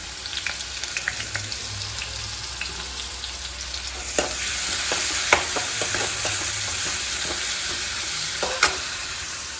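Mustard seeds and shallots tempering in hot oil give a steady close sizzle, with scattered sharp pops and crackles spread through the whole stretch, no voices.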